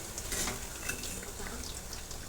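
Kothimbir vadi, coriander fritters, shallow-frying in hot oil on a lowered gas flame and being turned in the pan, give a soft, steady sizzle with faint scraping of the pieces being moved.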